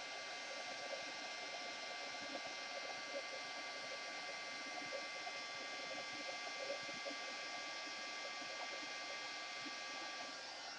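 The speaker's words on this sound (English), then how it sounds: "So I'm just going to go ahead and emboss it now with my heat tool." Heat tool for embossing a stamped image, blowing hot air in a steady, even whir that holds from start to finish at close range, with no talk over it.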